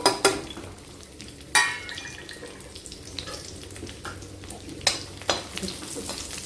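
Garlic, green chilies and ginger fry in hot oil with a soft continuous sizzle, broken by a few sharp clinks and scrapes of a stirring utensil, heard close with no talk.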